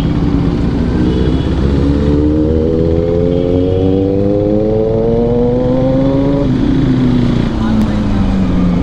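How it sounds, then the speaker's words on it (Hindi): Motorcycle with a full exhaust and no dB killer, droning loudly and continuously in traffic, with engine pitch rising steadily as it accelerates. "फुल्ली एग्जॉस्ट लगा हुआ है भाई, साउंड सुन के पहले ही रोक लेगा क्योंकि इस पर डीबी किलर लगा हुआ नहीं है।"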